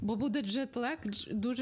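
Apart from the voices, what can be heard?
No everyday noises stand out.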